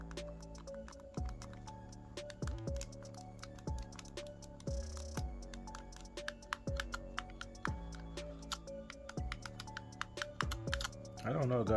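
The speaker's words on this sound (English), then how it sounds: "The buttons are clicky." KINVOCA Joy-Con controllers for the Nintendo Switch have their buttons pressed in a quick run of sharp plastic clicks, close up, with tonal beeps underneath.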